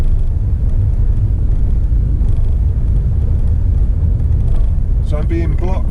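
A car moving slowly along a road at about 15 mph, heard from inside as a steady loud low rumble and road roar, with a brief higher whine near the end.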